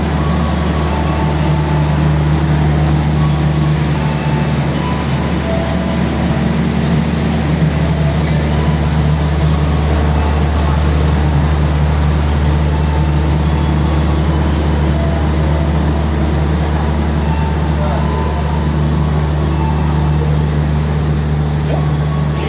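Taksaka executive train at Purwokerto station after rain, a loud steady low rumble and hum of the rail carriage that continues without a break.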